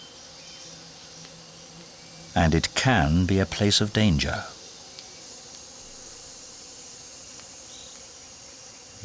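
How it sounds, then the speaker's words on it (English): Insects buzz faintly and steadily on a humid, dark tropical forest floor among almendro trees, a thin continuous drone under a short burst of nearby speech. "The forest floor, alive with thousands of buzzing mosquitoes,"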